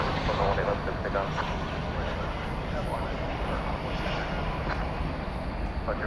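Envoy airliner taking off from runway 18 left at DFW Airport at night, a steady loud engine roar holding throughout with faint radio chatter beneath.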